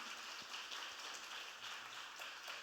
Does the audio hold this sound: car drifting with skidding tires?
no